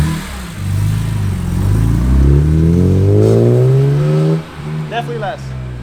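BMW E46 M3 straight-six engine accelerating with its intake rasp reduced, a deep rising harmonic drone building for about four seconds before easing off, followed by a brief voice.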